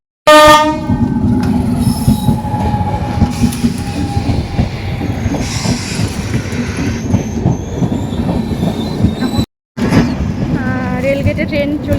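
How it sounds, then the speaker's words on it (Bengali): A train rolls loudly through a railway level crossing near a fair, its horn blaring at the start, with rumbling wagons, clattering wheels and squealing rails continuing close by, and another horn blast near the end. "রেল গেটে ট্রেন চলে এসছে"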